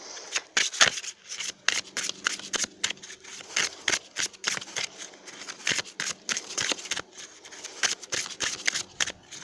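A deck of tarot cards being shuffled by hand, with rapid papery riffles and slaps that come in an uneven, continuous rhythm, loud and close, with no voice.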